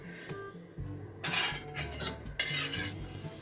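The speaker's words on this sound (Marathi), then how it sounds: "तेल आपलं तापलेलं आहे, आता मी त्याच्यामध्ये थोडंसं जिरं घालणार आहे." Cumin seeds drop into hot oil in a pan, with a few quiet utensil clinks before two bursts of bright, hissing sizzle that carry on briefly amid light stirring.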